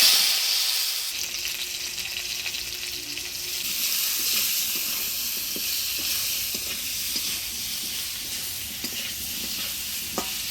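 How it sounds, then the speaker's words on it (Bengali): Elephant foot yam fries in oil with turmeric and salt, a loud continuous sizzle and hiss lasting throughout, dotted with small clicks and scrapes from stirring up close. "এবার এই তেলের মধ্যে হলুদ লবণ দিয়ে ওলকচিটা ভেজে নেব।"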